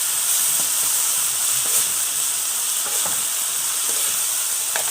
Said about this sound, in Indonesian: kacang panjang dicampur sama toge, kita tumis ya.